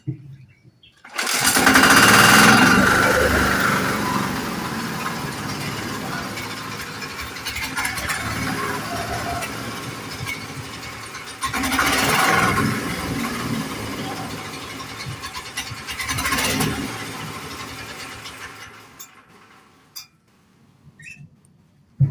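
A walk-behind machine's engine is pull-started after decompression and runs with a loud, steady, rattling mechanical clatter. Its tone swells twice along the way, and it cuts off abruptly near the end.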